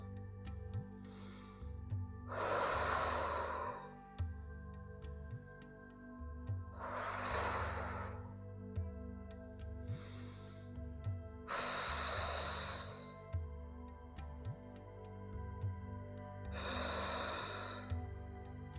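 Deep breaths during a seated pilates spinal twist in a core workout: four or five loud, airy exhales or inhales roughly every five seconds, close to the mic, over steady background music.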